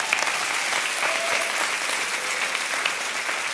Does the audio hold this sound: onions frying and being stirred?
no